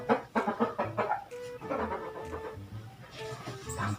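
A chicken clucks close by in scattered short calls, mixed with background voices and household noise.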